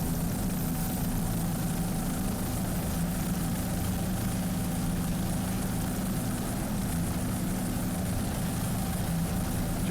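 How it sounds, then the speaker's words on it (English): A 24-foot Randall powerboat with Volvo Penta power idling at a Miami superboat race, a steady loud low rumble with a constant droning tone throughout. "There's Romash Lee Racing, P5, 24-foot Randall Powerboat. Volvo Penta Power"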